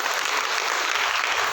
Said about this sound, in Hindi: इनके लिए ताली बजाएंगे।